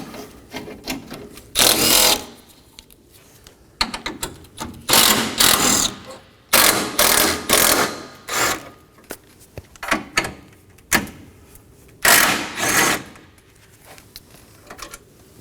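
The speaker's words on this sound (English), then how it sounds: "Now in each corner of our crossbar, we're going to locate 2 10mm bolts. Remove these." 10mm bolts on a Toyota Corolla radiator crossbar being removed with a power tool, giving repeated short whirring bursts separated by pauses and small clicks, close and loud.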